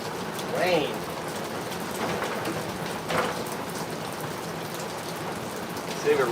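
Steady rain falling on a surface throughout, a dense, even patter with a few brief louder spots and faint voice-like sounds in the background.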